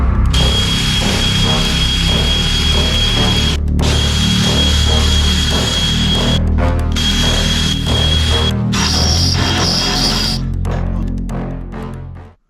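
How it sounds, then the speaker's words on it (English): A cutoff wheel slices through metal seat brackets, a loud sustained grinding whine broken by several brief pauses and shifts in pitch as the cut progresses, with no voices. "I just cut that off with the cutoff wheel"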